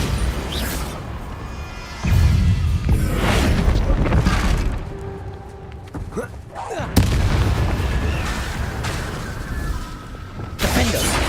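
Spell blasts from Confringo and Bombarda in Hogwarts Legacy, heavy booming explosions that come in loud bursts, a wide blast around two seconds and another near seven, over game effects and a voice speaking.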